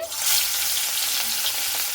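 Hot mustard oil sizzles and crackles loudly and steadily as fish fries in a pan over high flame, with no voices.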